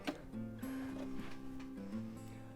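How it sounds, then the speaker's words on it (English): A domestic sewing machine runs a short burst of forward stitching, pauses, switches to reverse, then goes forward again while mending a worn shirt cuff with binding, giving a close, steady mechanical whir broken by brief stops. "So a little forward stitch and then a little reverse, forward again."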